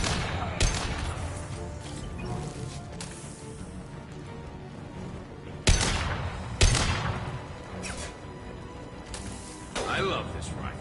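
Rifle shots ring out in a Mass Effect 2 firefight: scattered sharp cracks over a busy combat backdrop, with someone talking throughout.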